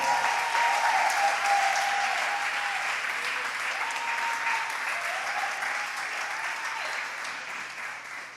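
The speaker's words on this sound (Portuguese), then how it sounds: "eu queria que você aplaudisse ao Senhor pela vida de Mariana Barros" A church congregation applauds in praise during a service, a broad, sustained wash of many hands clapping that holds steady and slowly fades, with faint tones of music or voices drifting underneath.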